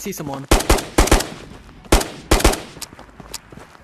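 Gunfire from the Ghosts of Tabor video game rings out as sharp, loud shots in uneven bursts, some in quick pairs, with faint speech-like sounds between them.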